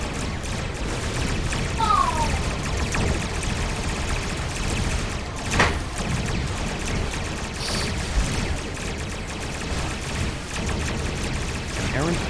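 Weapons fire in Star Trek Online during an Undine assault fleet event, a dense, continuous barrage of shots and bursts with a sharper crack midway, under game voices and battle noise.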